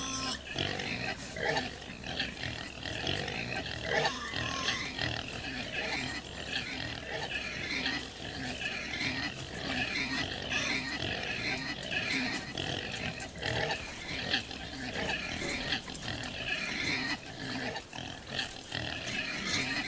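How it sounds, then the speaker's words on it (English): Pigs in the video game On The Road grunt and squeal continuously while being loaded into a livestock truck on a Leipzig to Berlin delivery, a loud, overlapping chorus of oinks that lasts throughout. "I had to wait for all 5 sets of pigs to go into the truck"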